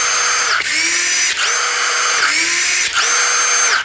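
A Milwaukee M18 Fuel gen 3 cordless drill spinning freely at its top speed setting, a loud high-pitched motor whine in several bursts, each ending in a brief dip before revving up again.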